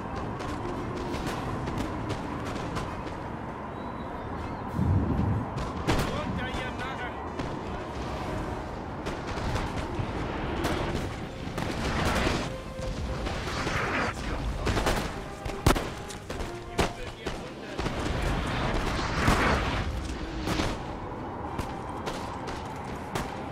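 Cannon booms roll continuously across a Napoleon Total War battlefield, dense repeated artillery and musket volleys layered with rumbling impacts, steady and busy throughout.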